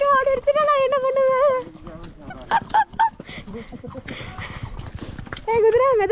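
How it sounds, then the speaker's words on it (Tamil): Horse hooves clip-clop at a slow walk during a family outing in Shimla, mixed with honking horn-like tones and a person talking over them. "ஏய் குதிரை மெதுவாப்போ"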